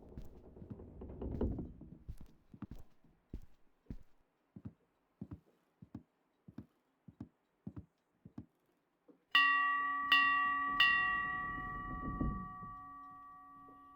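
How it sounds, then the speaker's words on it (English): Shop bell in the Rosewater video game struck a few times in quick succession, its bright metallic ring sustaining and slowly fading after a run of soft, evenly spaced footsteps. "Go and ring the bell."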